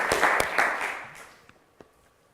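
A TV quiz show's studio audience applauds in a brief, fairly close burst of clapping that fades to a few scattered claps within about two seconds.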